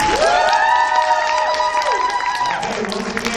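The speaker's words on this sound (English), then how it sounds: "Let's give all of our 8 poets a round of applause," A poetry slam crowd at AIHEC Poetry Slam 2023 applauds its eight poets, with loud sustained whoops and cheers riding over steady clapping that eases off toward the end.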